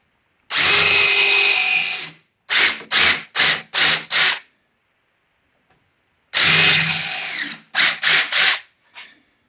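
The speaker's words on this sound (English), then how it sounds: "Pop in our drill bit." A power drill boring into wood up close: one long sustained whine, a run of four short bursts, then another long run and a few quick bursts.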